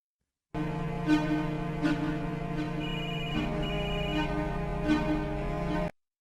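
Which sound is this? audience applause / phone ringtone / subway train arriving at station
phone ringtone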